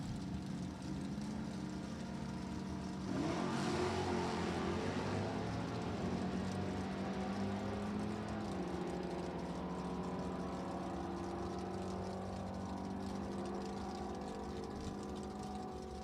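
A Camaro SS 396 drag racing car with a Warren engine at a drag strip in Chesterfield, Virginia, heard as a sustained loud engine roar that surges then holds a steady drone as the car runs, alone without talk.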